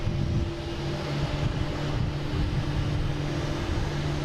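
An Austrian Airlines jet departing Boston Logan gives a loud, steady engine roar with a low droning hum, continuous and close, with no voices over it.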